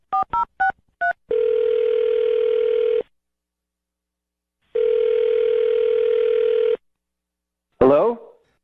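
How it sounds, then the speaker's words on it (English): A telephone dials with four quick touch-tone beeps, then two long steady ringback tones separated by a pause, followed by a short burst as the call connects. "I'm going to dial his phone right now"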